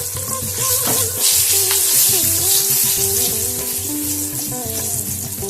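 Curry leaves, red chili and asafoetida crackle and sizzle loudly in hot oil for a South Indian sambar tadka, the hissing steady throughout with light stirring clatter on top and no talking.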